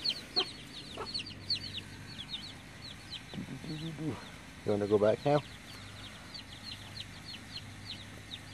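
Backyard chickens and a rooster cluck in short, bursty calls through the clip, with a sharper run of squawks near the end, while a person speaks nearby and small birds chirp faintly in the background.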